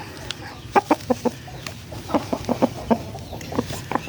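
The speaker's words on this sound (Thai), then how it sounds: "ตัวนี้เป็นไก่โซโล่นะครับ" A Solo breed chicken, a sturdy big-boned fowl, clucks in a steady series of short, clear calls close by, in rhythmic bursts with brief pauses.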